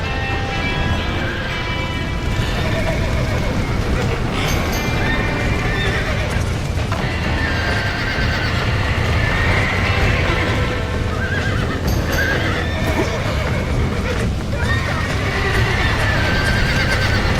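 Horses in the video game Red Dead Redemption whinny and neigh repeatedly over galloping clip-clop hooves, with wind and game ambience steady underneath.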